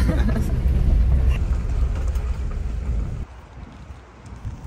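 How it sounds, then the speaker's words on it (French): Wind at Montchoisy beach on a sunny day: loud, rough gusts buffet the microphone for the first three seconds, then ease to a softer rush, with voices faintly present. "Il fait beau, mais il y a un petit peu de vent."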